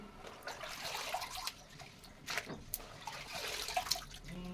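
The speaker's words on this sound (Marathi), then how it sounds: "आता मी याच्यात असे निथळून वेपर्स घालून घेणार आहे" Drained potato slices for wafers go into a pot of boiling salted water, giving close, continuous splashing and bubbling with small trickles and drips and no talking.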